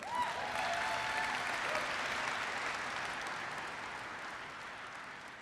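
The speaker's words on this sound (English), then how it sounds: "So let's give Jim a big round of applause." Keynote audience applauding at an architecture, engineering and construction event, a broad steady clapping that holds loud throughout and fades slightly toward the end, with a brief cheer near the start.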